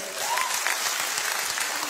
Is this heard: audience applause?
yes